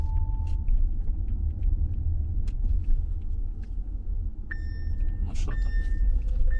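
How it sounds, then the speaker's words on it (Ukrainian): A car rushes past outside over a constant low engine and road rumble heard from inside a moving Audi e-tron Sportback 55 electric car with its panoramic roof slightly open, with a few faint electronic tones. "От машина пролетіла."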